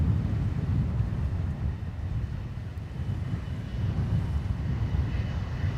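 An Airbus A330 freighter at Dublin Airport, a steady low jet engine rumble heard from a distance with some wind buffeting the microphone, continuous and unbroken.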